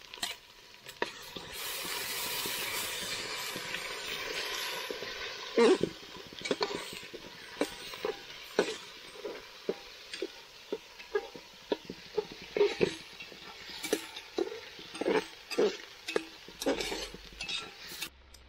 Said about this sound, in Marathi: आता आपण मसाला भाजत आहोत.